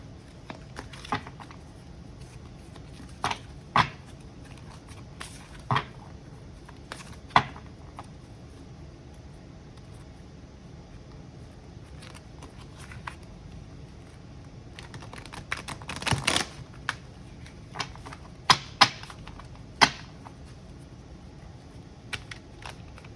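Large tarot cards being shuffled slowly and clumsily, with scattered soft taps and rustles over a low background hiss, no talking.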